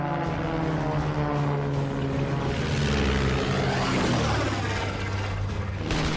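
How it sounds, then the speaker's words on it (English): Propeller engine of a WWI German triplane in a dogfight, a loud sustained buzzing drone with a pitch that sweeps downward as it passes close by, steady and continuous throughout. "closely pursued by a silvery blue German triplane at very close range"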